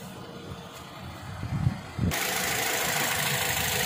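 A 2013 third-generation Toyota Vios sedan engine idling, a soft low rumble that suddenly jumps to a louder, steady broadband hum partway through, heard close with no talking.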